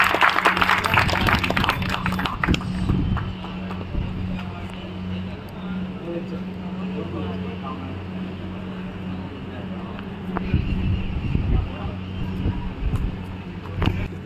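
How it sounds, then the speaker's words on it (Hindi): An audience at a dance competition's cultural programme breaks into applause, a dense burst of clapping at the start that thins into a low hum of crowd and room noise, with scattered claps returning later. "शानदार शानदार तालियां बजाइए।"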